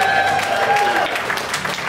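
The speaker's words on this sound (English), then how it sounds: "The crowd goes wild." An audience applauds at a stage magic show after a pickpocketing trick, a dense, steady wash of clapping with a faint tone running underneath.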